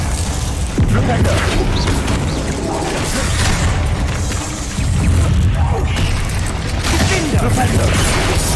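Spell impacts and magical blasts from casting Flipendo in Hogwarts Legacy, a dense stream of booms, crashes and clattering mechanisms layered over game music, loud and continuous with a few sharper hits.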